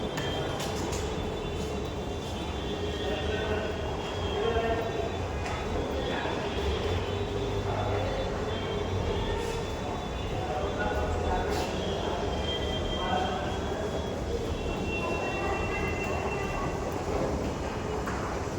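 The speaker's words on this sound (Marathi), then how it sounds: "आपली एंट्री होत आहे मेट्रो स्टेशन." A crowded underground metro station is filled with a steady rumble of trains and a dense murmur of many voices, continuous and fairly loud throughout.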